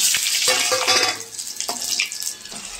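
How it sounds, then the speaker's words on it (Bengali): Dry red chillies and whole cumin seeds hit hot oil with a loud, steady crackling hiss that flares in short bursts over nearly three seconds. "আর এবারে আমি তেলের মধ্যে শুকনো লঙ্কার গোটা জিরে ফোড়ন দেব।"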